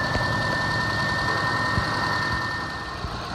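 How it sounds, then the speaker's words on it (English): A car engine revs while a vacuum gauge test is underway, a loud, steady mid-range drone with a thin whine on top that holds, then eases slightly near the end, close and without talk. "Now we're going to rev it."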